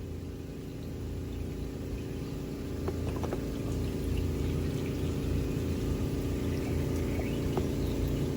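Shower water running steadily from a Bosch 4-gallon tankless water heater in a cargo van conversion, a constant rushing spray over a low mechanical hum, with a few faint clicks.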